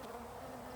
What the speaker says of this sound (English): still getting a lot of bees back into my original location